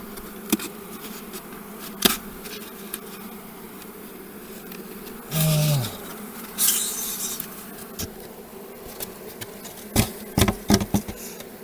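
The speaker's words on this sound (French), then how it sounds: "Les abeilles elles bruissent." A honeybee colony in agitated condition drones with a steady, dense buzz throughout, broken by a few louder passes of individual bees flying close, with scattered faint clicks and taps.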